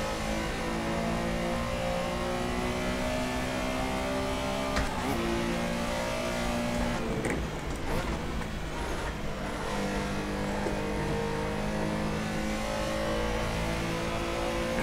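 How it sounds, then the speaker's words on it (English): A Porsche Carrera Cup flat-six race car engine in a sim racing game drones steadily at low revs, its throaty hum rising and falling through gear shifts, continuous and close with no talking. "when you're on the low RPM range, this thing, you really hear that flat 6 sound out of it"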